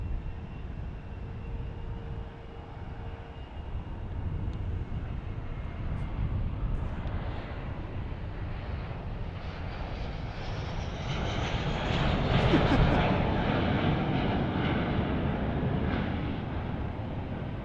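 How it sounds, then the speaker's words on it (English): An Airbus A350 airliner departs for Doha from DFW International Airport, its jet engines giving a steady distant roar that swells slowly and grows louder toward the end. "There's our A350 headed back to Doha."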